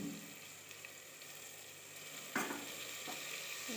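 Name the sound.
tomatoes frying and sizzling in pan for ugghani bajji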